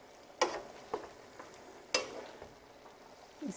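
Linguine for shrimp scampi gets tossed in a pan, making two sharp clattering scrapes against a faint sizzle and a few softer utensil touches.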